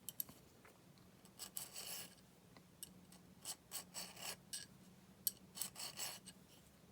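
A hand file works a steel scope base in short, quiet rasping strokes, a series of separate scraping swipes with small pauses between them, close and isolated.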